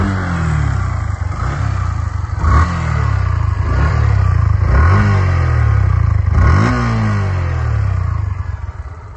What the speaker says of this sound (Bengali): তো গাড়িটা এখন স্টার্ট করে আপনাদেরকে সাউন্ড শোনা দিচ্ছি